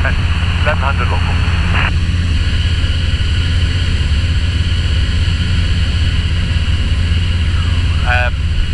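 Small propeller airplane in flight between Swansea and Haverfordwest, a constant loud cabin engine drone throughout, with brief radio-like chirps over it.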